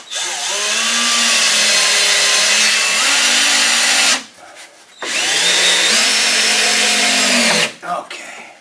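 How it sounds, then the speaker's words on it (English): Power drill driving a screw into a closet door hinge in a basement closet renovation, two long whirring bursts with rising and falling motor pitch, close and loud, separated by a brief pause. "Yeah, I'm going to drill that one in"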